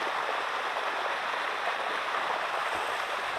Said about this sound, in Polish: piękny wodospadzik